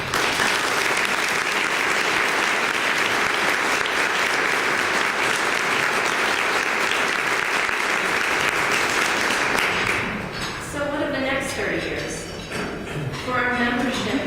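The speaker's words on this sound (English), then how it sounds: "Please join me in a round of applause for our fantastic staff and project team." Audience applause at an annual association meeting, a steady, full round of clapping from a large room lasting about ten seconds before fading as a voice begins speaking over the tail.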